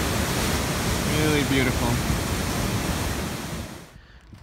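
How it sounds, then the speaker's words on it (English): The Falls of Falloch, a waterfall on the River Falloch along the West Highland Way, gives a steady, loud broadband rush of falling water that fades near the end, while a voice speaks briefly over it. "The Falls of Fallow."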